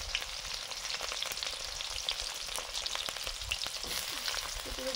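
Whole cumin and chopped onion frying in hot mustard oil for a potato curry, a dense continuous close sizzle with crackling pops and some stirring, loud and unbroken, without talk.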